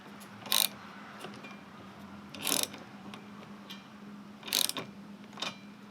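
Ratchet wrench clicking in short bursts while working on a second-generation DSM Talon TSi, about four quick ratcheting runs with quiet gaps between them, close by and without talk.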